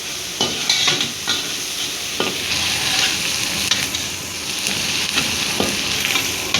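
Ginger and garlic sizzle in hot oil for chicken Chettinad, a loud steady frying hiss punctuated by repeated scraping stirs of a spoon against the pan, with no talking.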